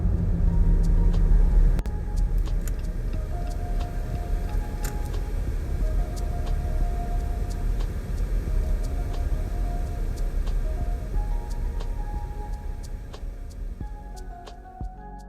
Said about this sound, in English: I'm going to turn on the AC as well so you can have an understanding of what kind of what the AC sounds like